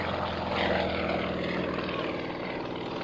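A propeller aerobatic airplane at an air force base open house air show drones steadily overhead through a barrel roll, a continuous loud engine and propeller roar from a distance with no pauses.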